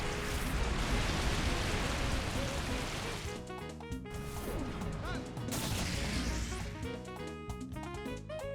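Heavy rain weather during a Pokémon Colosseum battle: a dense, loud hiss of rainfall fills the first few seconds, then gives way to game music with brief crashing hits.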